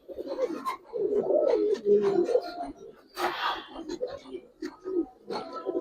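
Male and female Giribaz and colored pigeons coo in low, throaty bursts close by after being let go at a pigeon farm, with a rustle of flapping and someone talking in between.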